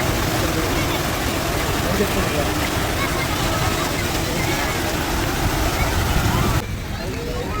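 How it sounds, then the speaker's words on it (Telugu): A waterfall at NTR Garden gives off a continuous broadband rushing roar, loud and steady, that drops slightly in level near the end. "మళ్ళీ ఇదిగోండి వాటర్ ఫాల్స్ ఇక్కడ"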